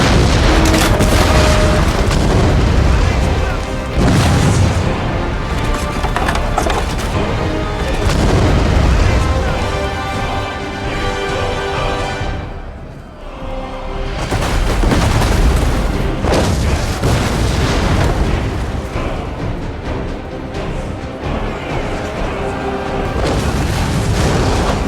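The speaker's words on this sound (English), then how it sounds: "When he had the chance, he fired his cannons towards the Swiss pike square." Cannon artillery fire in a medieval battle video game, the 1476 Battle of Grandson between Burgundy and Switzerland, heavy booming blasts rolling one after another over a dense, loud battle din for the full length, with a brief lull midway.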